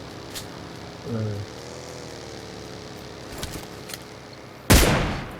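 A single loud, sharp gunshot-like blast near the end of PUBG Lite gameplay, preceded by faint scattered pops over a steady low hum, with a brief rising engine-like tone early on.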